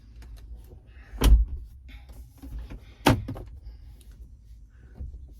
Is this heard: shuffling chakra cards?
no